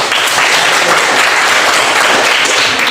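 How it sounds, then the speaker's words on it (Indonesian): A classroom of students applauds, with dense, steady clapping from many hands that holds at an even loudness throughout, close and full with no gaps. "Oke, berikan aplaus buat kalian semua"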